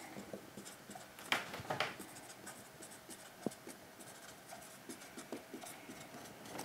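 A pen scratches out mathematical notation on paper, close and quiet, in uneven strokes and taps with short pauses between marks, with no speech.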